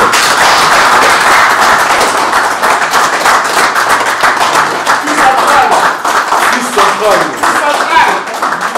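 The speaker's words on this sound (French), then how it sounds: "Applaudissements pour l'artiste." Audience applause at a press conference in Geneva greeting the artist BBJ3, sustained dense clapping that fills the whole stretch, loud and close, with voices mixed in beneath.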